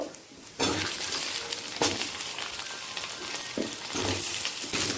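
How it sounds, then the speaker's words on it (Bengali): Potato, taro, papaya and other vegetables hit hot oil left from frying lentil dumplings and set off a loud, steady sizzle, close by, with a few spatula scrapes and clinks against the pan and no talking. "বড়িটা ভাজার পর যে তেলটা রয়েছে সেই তেলেতে আমি সবজিগুলোকে ভেজে নেব"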